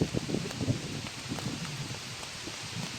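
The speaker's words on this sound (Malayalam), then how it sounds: "പക്ഷെ നല്ല മഴ, നല്ല കാറ്റ്." Steady rain with gusting wind outdoors makes a soft, continuous wash of noise with faint patters, fairly quiet and without voices.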